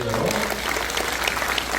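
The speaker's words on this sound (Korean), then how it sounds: "일단 박수 한번 크게 해주세요" A crowd applauds loudly and continuously at a political gathering, dense clapping filling the room without a break.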